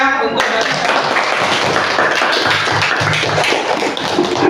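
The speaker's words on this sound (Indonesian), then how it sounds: "Beri tepuk tangan yang meriah" Applause from a classroom audience of students: dense, loud clapping starting abruptly and continuing steadily, close and filling the room, with some voices mixed in.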